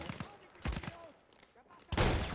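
World War I gunfire in Battlefield 1 sounds as a few sharp shots early, then a loud burst at the end, with quieter stretches between and someone talking in Turkish.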